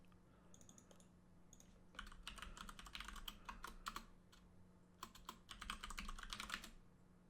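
Quiet, close typing on a computer keyboard, starting with a few scattered keystrokes and then running in quick irregular bursts of clicks over a low steady hum.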